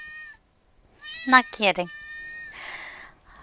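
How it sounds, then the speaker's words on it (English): A kitten gives a couple of close, high, wavering meows, with a woman's speech heard before and after. "I have a kitten."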